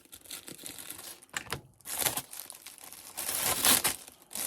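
A small felt envelope package is torn open up close, with short crinkling rips and rustling bursts that grow louder toward the end.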